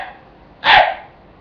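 A single raspy, yappy bark imitating a red fox, sounded as a fox call during a hunting seminar; one short, loud, breathy burst stands alone against quiet background.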